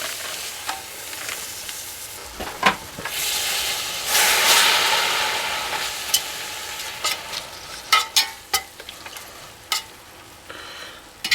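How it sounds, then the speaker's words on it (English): One pound of ground beef fries in a hot skillet over medium-high heat, a steady close sizzle with intermittent scraping and stirring clicks from a utensil. "Now the skillet heated up, we're going to cook 1 pound of ground beef."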